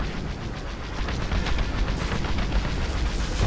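An in-game time bomb going off in a multiplayer video game, heard as a loud, sustained roar of blast noise with crackling debris that swells and holds for a few seconds, no voices over it.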